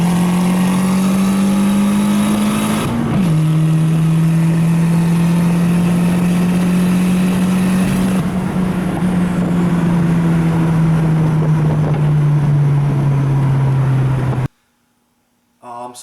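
A turbocharged Nissan Sentra pulls hard from about 60-70 to over 100 on a road in Mexico, its loud, steady engine drone dipping briefly at a gear change, then holding before a sudden cut to near silence.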